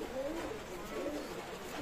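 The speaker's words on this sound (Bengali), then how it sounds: "এক পেয়ার কবুতর আছে ডাবওয়ালা কবুতর, চোখলালের কবুতর" Dabwala pigeons, a red-eyed breed, coo softly in low, rolling calls while someone talks over them through steady background noise.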